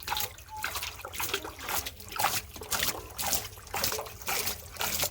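Water is sprinkled by hand over a mint (pudina) garden bed on a village farm, coming as a steady series of splashing, pattering bursts about every half second, close by and moderately loud, with no talk.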